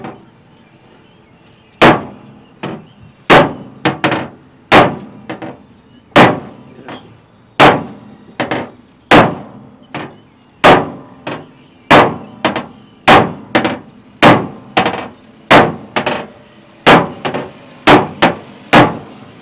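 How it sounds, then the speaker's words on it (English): Sharp metallic raps from a square hammer striking a car body panel on a 1968 AMX under restoration. Roughly two dozen loud, close blows come in uneven bursts, some single and some in quick pairs, each ringing briefly against a quiet background. "I'm going to give this a rap with a square hammer"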